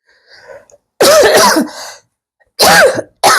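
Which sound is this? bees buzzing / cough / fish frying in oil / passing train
cough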